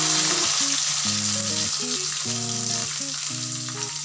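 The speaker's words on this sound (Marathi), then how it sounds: "तेल गरम झालं की आता आपण टाकणार आहोत कढीपत्ता, त्यानंतर आपला चिरलेला कांदा" Curry leaves and chopped onion fry in hot oil with a steady, loud, continuous sizzle, while a simple melodic tune plays along underneath throughout.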